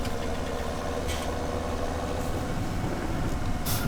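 Tractor engine idling in Farming Simulator 17, a steady low mechanical drone that holds constant and fairly loud throughout, with no talk over it.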